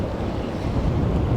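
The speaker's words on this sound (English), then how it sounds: "Wow, it's so windy." Strong wind at a marina roars steadily into the microphone, a continuous low rumbling buffet with gusty surges throughout.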